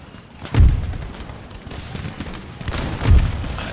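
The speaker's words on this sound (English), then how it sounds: "You can see they're still firing, so we're going to be getting friendly fire" Musket volleys crack out in an Empire: Total War battle, two heavy booming discharges a few seconds apart over a continuous crackle of scattered distant gunfire.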